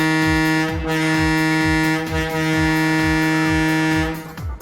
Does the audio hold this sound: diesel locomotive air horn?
yes